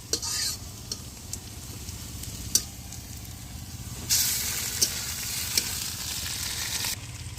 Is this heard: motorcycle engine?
no